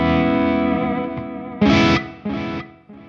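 An electric guitar played through an Axe-Fx III on a Mesa Triple Crown preset, with reverb and tape delay: a sustained distorted chord rings out and decays, then short chopped chords strike in succession, trailing into echoes.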